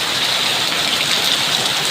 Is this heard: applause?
no